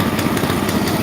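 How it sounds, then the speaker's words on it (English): The engine of a firewood splitter idles close and loud, a steady rough putter running without pause and with no talk over it. "We'll just let it idle a bit higher."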